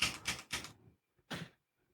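Scratching a foot produces three quick rough broadband rasps in a row, then a pause and a fourth rasp, close and fairly loud, sounding much like typewriter or keyboard clatter.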